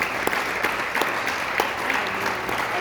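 Church congregation applauding at a Sunday school service, a dense, moderately loud wash of clapping with scattered sharper claps, sustained throughout and without talk.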